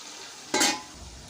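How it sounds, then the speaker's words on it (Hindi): A whole chicken fries in a pan, giving a brief burst of sizzling and stirring noise that rises for a moment and then settles back into a quiet background. "तो चिकन जो है हमारा फ्राई हो रहा है"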